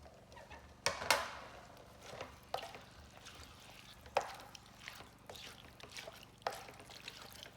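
Beans tipped into a pan for Persian lubia polo (rice with green beans), a run of short scraping and clattering hits spread over several seconds, close and moderately quiet, with no talking.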